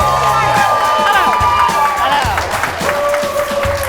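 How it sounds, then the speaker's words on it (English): A studio audience at a daytime talk show claps and cheers loudly and steadily, with whoops rising over continuous applause throughout. "Clap one more time."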